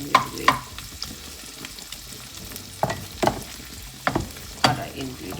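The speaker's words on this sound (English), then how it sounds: "we're going to saute this until it gets translucent" Aromatics with a whole Scotch bonnet pepper sautéing in a pot, a low sizzle punctuated by several sharp spoon scrapes and clinks against the pan, close and intermittent.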